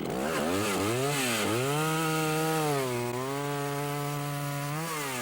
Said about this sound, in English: Chainsaw demonstrations are all basically the same, loud.